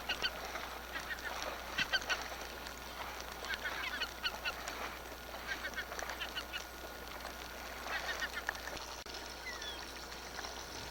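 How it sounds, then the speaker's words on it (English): Seagulls call repeatedly over an area where petrels nest near Upernavik, Greenland, their honking cries coming in scattered bursts over a steady wash of wind and water, moderately distant. "there's a good number of seagulls, which are flying high above me"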